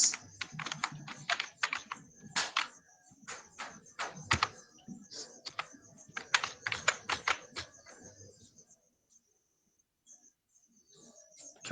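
Computer keys clatter in quick bursts as a web search is typed, close and crisp, with short pauses between runs of keystrokes and a near-silent stretch before a few final taps; no one speaks.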